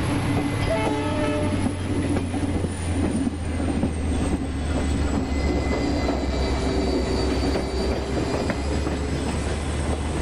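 A WDP4B diesel locomotive hauls a train in the MSTS RailIndia simulator, giving a steady rumbling engine drone and rolling wheel noise throughout, with a long high whine above it and no voices.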